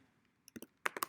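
A name is typed on a computer keyboard as a few quiet, close key clicks, sparse at first and then in a quicker cluster of taps near the end.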